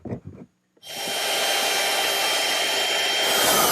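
A router with a 1/4 inch quarter round bit eases the curved edges of a wooden dough box leg, a loud steady high whine that starts abruptly after a brief pause and holds continuously.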